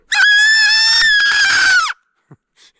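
A single loud, piercing shrill tone from a homemade marking-tape whistle, held for nearly two seconds, wavering slightly like a scream, then cut off, followed by faint rustles.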